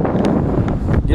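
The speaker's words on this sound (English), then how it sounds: "Wind's terrible." Strong wind buffets the microphone out on a Kentucky lake during crappie fishing, a steady rough roar with gusty bursts filling the whole moment.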